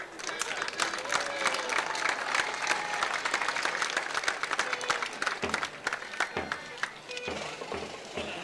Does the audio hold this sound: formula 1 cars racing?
no